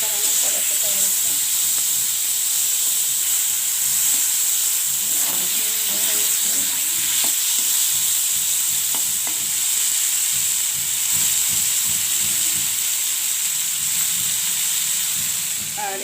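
300 grams of prawns frying in a kadai, a steady hiss and sizzle with scattered stirring clinks, continuous and close, while a voice talks intermittently over it.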